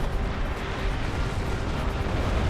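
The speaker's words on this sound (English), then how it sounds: "Borg Sphere is destroyed, sir." A Borg Sphere blowing apart in the space game Star Trek Online, heard as a dense, sustained rumbling roar of explosion noise that holds steady and loud throughout, with no voices.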